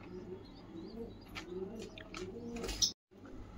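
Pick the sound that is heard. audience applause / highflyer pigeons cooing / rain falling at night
highflyer pigeons cooing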